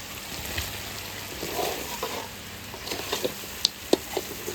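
A red rooster curry with potatoes sizzles quietly in a pan, a low steady hiss with light stirring and two sharp utensil clinks near the end.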